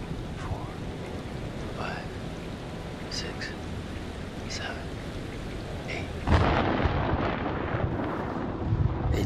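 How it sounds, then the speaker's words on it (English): Thunderstorm with steady heavy rain in Man of Medan, a dense wash of rainfall broken by low rumbling thunder that swells louder partway through, with faint voices speaking over it. "The storm's 8 miles away."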